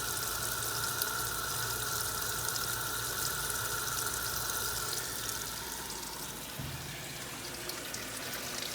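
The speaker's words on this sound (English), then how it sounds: "See the water creeping up the bottom of the agitator down there." Water pours steadily into a top-loading washing machine tub around the agitator, a loud continuous rushing fill with a faint whine underneath, easing slightly toward the end.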